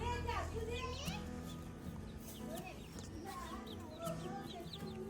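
Chickens cluck close by in a village setting, their calls mixed with children playing and voices talking over a steady background hum.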